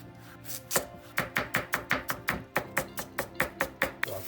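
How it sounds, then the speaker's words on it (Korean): A knife chops radish thinly on a cutting board, a steady run of about fifteen crisp, evenly paced strikes close by, with no talking. "여기서 포인트는 무를 작게 얇게 잘라줄 거예요."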